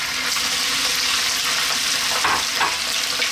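Mutton pieces dropped into a hot pan of masala for a curry, a loud continuous close sizzle and hiss with a slight surge of crackle near the end.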